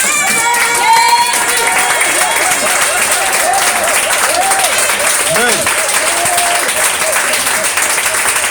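A church congregation gives loud, sustained applause and cheering during a service, with shouting voices and exclamations rising over continuous dense clapping.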